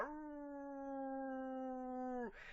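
A voice imitates a dog's howl, holding one steady, tonal drawn-out note for about two seconds before it drops away abruptly.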